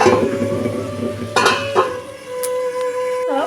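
A spoon scrapes and clinks against a pan while curry in oil is stirred, with a few louder metallic knocks and a steady background hum, no talking.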